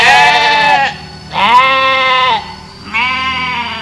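Goats on a village hillside grazing spot give three long, wavering bleats, loud and close, with brief pauses between calls and no voices.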